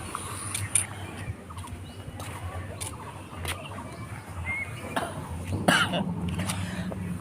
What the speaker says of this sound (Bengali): তারপরে আবার ঘন ঘন কাশি হচ্ছে, যখন খাচ্ছি তো কেসেই যাচ্ছি